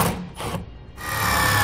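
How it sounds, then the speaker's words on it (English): A power drill drives self-tapping screws into the underside of a 2019 Keystone travel trailer while a Lippert electric leveling system is being mounted. A few short whirring bursts give way to a steady, close drilling whine. "we're going to use self-tapping screws that come with our kit to mount it into those holes"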